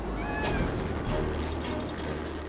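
Cartoon cat meowing aboard a plane about to take off, a clear animated meow rising over steady background hum and score, sounding once or twice in the first second and fading into the mix.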